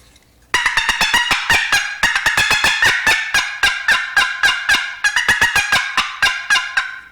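A box call imitates a wild turkey's excitement yelp in a fast, loud run of sharp raspy notes, about thirty of them in quick bursts with brief pauses, alone and close.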